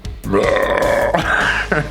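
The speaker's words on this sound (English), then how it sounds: "I'm so weird about my burps now when I'm on film." A single long, loud, gurgling burp rolls on for nearly two seconds, close to the microphone, with a short rough catch toward the end.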